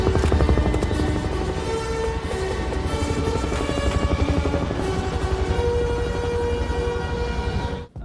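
A helicopter flying in a flight simulator video game gives a loud, steady, dense rotor and engine drone that runs continuously throughout, with no talking.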